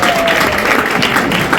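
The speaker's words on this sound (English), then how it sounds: "Please give them a round of applause one more time." Loud, dense applause from a crowd, steady clapping filling the whole moment.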